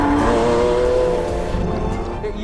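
A Lamborghini Aventador SVJ Roadster with a 6.5-litre naturally aspirated V12 sounds close and loud as a sustained engine note with a slight tire squeal, easing off toward the end.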